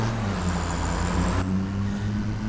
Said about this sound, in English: truck sounds pretty good